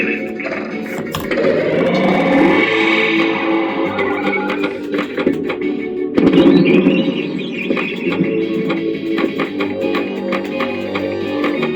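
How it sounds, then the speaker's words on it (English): Electronic sounds from an AtGames Legends pinball cabinet play continuously, with chiming tones, mechanical taps and bursts of effects, loud and busy throughout. "Alright, so that's the pinball."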